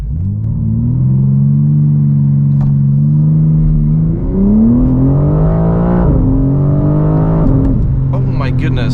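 A 550 hp BMW M4 CSL accelerating hard on a slightly uphill run, heard from inside: loud sustained engine roar climbing through successive gear changes, with brief dips between shifts and no talking.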